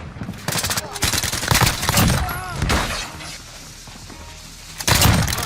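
Sharp gunshots crack out in a shooting video game, a few loud close bursts at the start and end with softer game sounds between, mixed with shattering and thumps.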